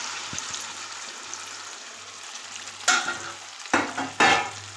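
Ground ivy gourd and tomato chutney goes into a hot tempering with curry leaves and sizzles sharply in bursts. Spoon stirring scrapes the pan close up between the bursts, and a low hum runs underneath.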